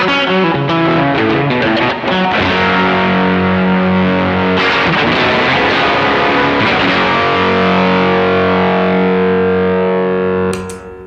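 Electric guitar through a Ritual Devices Grimalkin Fuzz pedal, low fuzz blended with high claw, playing loud, thick, saturated distorted chords and riffs continuously, with a brief pause mid-phrase and a sudden stop at the end.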